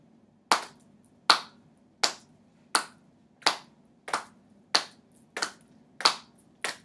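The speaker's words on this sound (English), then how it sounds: "we're just going to simply just clap our hands to a steady pattern" Hands clapping a slow, steady beat, ten crisp, evenly spaced claps heard alone and close, each with a short decay into quiet.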